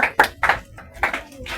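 Members of a congregation at a Sunday church service clap in a short, uneven burst, a handful of close, sharp claps scattered across a brief moment.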